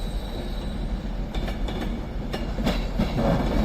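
An Avanti West Coast Class 390 train pulls into Crewe station with a low rumble and rhythmic clicks of wheels over rail joints, growing louder as it nears.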